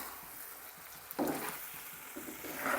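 Chicken curry being stirred in a frying pan after cumin powder goes in, a soft scraping sizzle with a couple of louder stirring strokes, close and quiet, with no talking.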